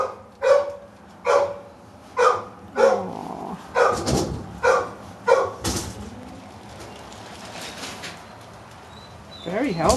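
A dog barks in a steady series of about seven loud, close barks spaced roughly half a second apart, then falls quiet while people chat softly in the background.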